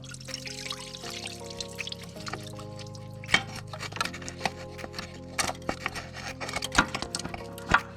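Coolant from a Chevy Cruze water pump trickling and dripping onto the ground, with irregular drips and clanks of work nearby and a steady hum beneath.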